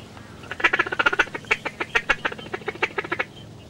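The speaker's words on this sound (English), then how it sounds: "We got thousands of ducks here everywhere." A dense flock of ducks quacking continuously at a hunting spot, many rapid overlapping calls forming a steady chattering rhythm, loud and fairly close with no talk.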